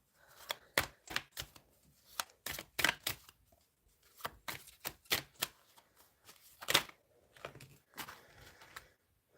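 Tarot cards being shuffled and drawn at close range: a run of sharp, irregular flicking and snapping bursts with short pauses between them, crisp and fairly quiet.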